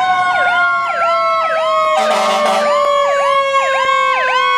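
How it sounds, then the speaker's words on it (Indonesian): A toy fire truck siren wails loudly and steadily in repeated rising-and-falling electronic sweeps, broken by a short harsh burst midway through. "Ada mobil pemadam kebakaran."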